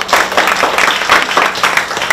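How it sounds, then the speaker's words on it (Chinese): A crowd of alumni and retired teachers at a university tea gathering applauds the alumni association president, loud and continuous, with many hands clapping close together. "我们给会长一个掌声好不好？"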